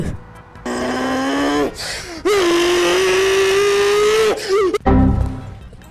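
A loud, high-revving car engine in the game BeamNG.drive screams steadily with harmonic whine, shifting pitch between gears, with brief drops before revving again.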